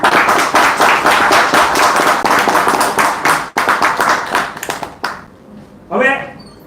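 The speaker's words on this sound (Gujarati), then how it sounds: "તાળી એકવાર" Audience at an indoor company meeting clapping together, a loud dense burst of rapid claps that thins out and stops, followed by people talking and laughing.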